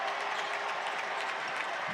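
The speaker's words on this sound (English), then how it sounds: "You can hear the applause in the building" Crowd applause fills a basketball arena at an NBA Summer League game between the Los Angeles Lakers and Sacramento Kings, a steady wash of clapping from across the building without a break.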